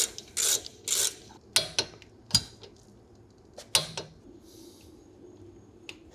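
Ratchet wrench tightening the top brake caliper bolt on an Alfa Romeo Stelvio during a brake pad job, heard as several short, close metallic clicking bursts separated by pauses.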